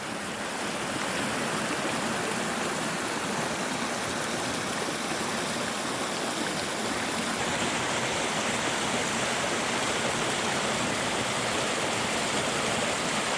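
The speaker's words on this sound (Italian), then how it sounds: "mi sono anche avvicinato per ascoltare meglio il mormorio dell'acqua." A flowing stream heard up close, a loud, dense and steady rushing murmur of water that holds unchanged throughout, with no voices.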